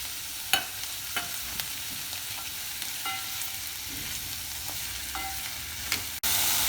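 Sliced mushrooms added to translucent onions and sautéed in a pan for a cheesy macaroni bake: a steady soft sizzle with scattered spatula taps and scrapes, then a sudden cut to a louder, denser frying hiss.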